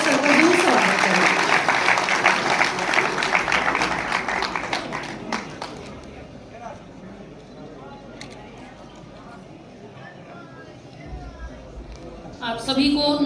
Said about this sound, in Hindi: कृपया एक बार तालियों से जरूर हमारे सर का जरूर स्वागत करें